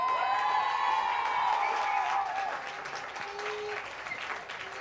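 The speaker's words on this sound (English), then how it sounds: "can we have a massive round of applause for Buffy and Lynn?" A Christmas party crowd gives a loud, sustained round of applause mixed with cheers and whoops, fading slightly toward the end as a voice begins to speak over it.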